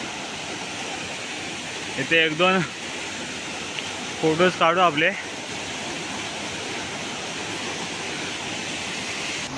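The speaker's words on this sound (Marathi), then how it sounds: "तुम्हाला आवाज जरा कमी येईल, कारण पाण्याचा आवाज जास्त आहे जरा" Loud, steady rushing water from a rock waterfall in the Konkan countryside, a constant broadband roar filling the whole clip while someone speaks briefly twice over it.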